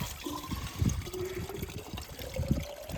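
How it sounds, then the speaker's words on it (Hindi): Cold water from a small mountain waterfall on a Himalayan trail in Nepal trickles and splashes softly into a container being filled. The gurgle rises slightly in pitch as it fills, quiet and close. "यहाँ पे एक छोटा झरना है पानी का, तो पानी भर लेते हैं।"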